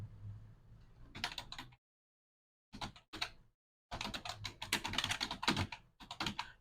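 Fingers typing on a computer keyboard while entering data into an Excel spreadsheet, with quick bursts of close, crisp key clicks separated by short silent pauses.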